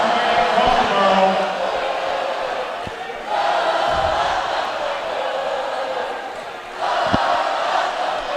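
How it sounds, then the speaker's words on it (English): Spectators at a Lower Merion high school basketball game cheer and shout as a broad, steady crowd roar, swelling in two bursts with occasional thumps and voices mixed in. "LM is cheering right now"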